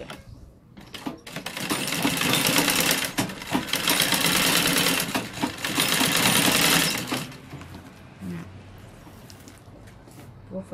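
A sewing machine stitches a hem on a rug made from plastic bags, running in a loud, rapid whir for several seconds with short pauses, then stopping and leaving quieter handling noises.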